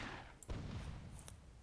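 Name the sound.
cannon shot in the video game Myth II Soulblighter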